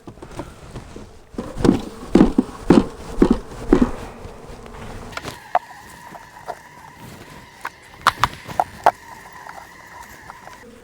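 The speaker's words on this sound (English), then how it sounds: "So I'm going to try and shake these bees here off in there." Honey bees are shaken off a hive frame during a fall combine, a run of sharp thumps from the shaking followed by a droning buzz of insects and scattered knocks.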